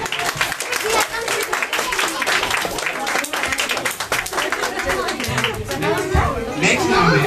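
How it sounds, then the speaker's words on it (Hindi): Audience clapping at a gift-giving ceremony, loud and continuous with dense crowd chatter and voices mixed throughout. "ताली बजाइए"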